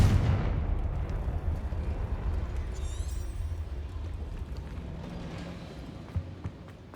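In the Hogwarts Legacy game, a Confringo fire spell detonates in a loud burst that decays into a long rumbling roar, followed by scattered crackles and small impacts.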